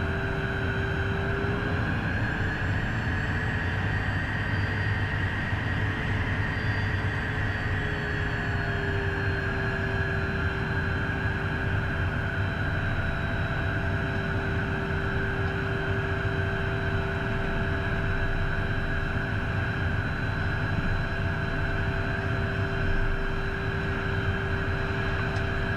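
A Premier private jet taxiing toward runway 21, heard from inside as a steady engine whine and broadband rush with a sustained tonal hum, constant and unbroken.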